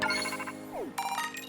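Phone notification jingle in the Pokemon Scarlet video game, a short bright chime of tinkling tones with a quick sliding blip in between, played clearly with no talking.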